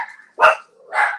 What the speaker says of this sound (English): Who got the dogs riled up?